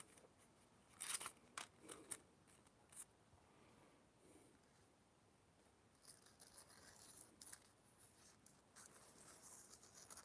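Light strokes of a chef knife on a sharpener, heard as a few crisp scraping passes early on and then a denser run of rapid rasping strokes near the end, close and fairly quiet.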